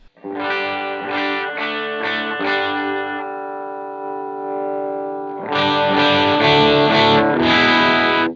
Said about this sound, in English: there is no usable clean tone in this amp